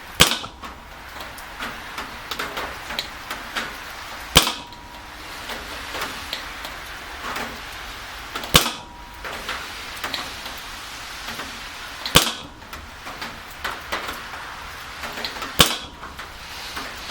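A Daisy Powerline 617X CO2 pellet pistol fires five sharp shots spaced about four seconds apart. Each crack stands out clearly over a faint outdoor background with small ticks between the shots.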